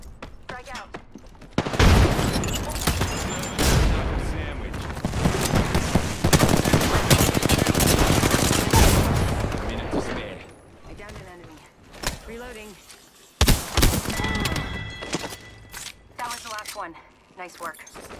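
Heavy gunfire in a squad-based battle royale video game, with dense, sustained bursts of rapid shots and explosive cracks filling most of the clip, then sparser, sharper bursts near the end, with voices mixed in.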